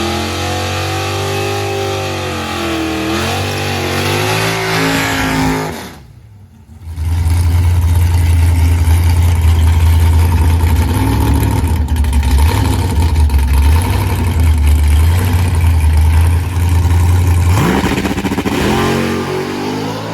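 A Tesla Plaid and a COPO Camaro drag race on a quarter-mile strip: a rumbling engine revs and rises, drops to a brief lull, then a loud, sustained roar of acceleration holds before easing off, close and without talk.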